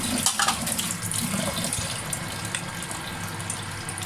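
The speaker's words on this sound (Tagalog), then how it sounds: "Tapos lagyan mo ng kaunting tubig para naman maluto." Water poured into a cooking pan of choi sum, a steady close splashing and gurgling pour with a brief stronger gush at the start, heard alone without talk.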